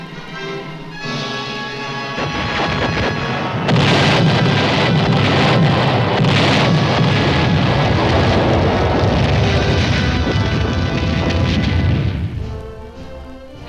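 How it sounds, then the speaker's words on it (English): Field artillery batteries fire proximity fuse rounds in a rolling, heavy barrage: a sustained, loud roar of overlapping booms swells after a few seconds and holds before tapering off, with no talking over it. "Four batteries to fire proximity fuses."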